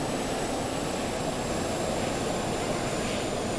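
A steady droning aircraft engine at partial throttle in the Stormworks video game, a constant broadband roar with a thin high whine, unbroken and fairly loud with no talk.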